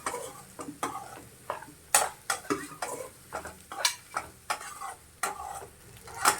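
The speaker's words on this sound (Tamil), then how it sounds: "இதை அப்படியே கொஞ்சம் நேரம் இப்படி வதக்கிடலாம்" Scrambled egg sautéed in a pan with onion, fennel seed and green chilli, a spatula scraping and tapping in quick irregular strokes over a faint sizzle, each stroke crisp and close, with no voices.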